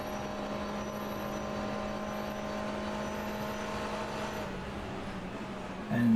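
Onboard race car engine noise in the rFactor 2 sim racing game at Daytona during a 12-hour endurance event, a fairly quiet, steady engine drone with rumbling undertones and a louder swell at the very end.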